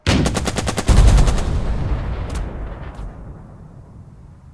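Infantry unit firing weapons in the war game Burden of Command, a rapid burst of about ten close, loud gunshots followed by a heavier blast and a long fading rumble, with a couple of distant shots later.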